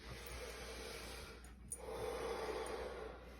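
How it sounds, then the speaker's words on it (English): Deep belly breathing during a relaxation exercise, a long slow breath through the nose followed by a short pause and another drawn-out airy exhale, close and fairly quiet, no talking. "now we're gonna do 5 more belly breathes"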